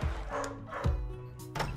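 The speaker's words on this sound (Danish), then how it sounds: "Hvad laver den hund her?" A dog barks a few times in short, fairly close yelps amid a busy indoor scene with background noise.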